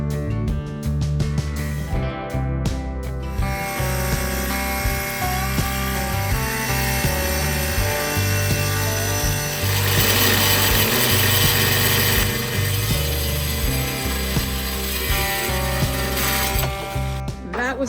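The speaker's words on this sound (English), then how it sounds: "That was my first attempt using the grinder." An angle grinder cuts shower tile in a log home bathroom, a loud continuous whine and grinding roar holding steady for the whole stretch, with some faint talk mixed in beneath it.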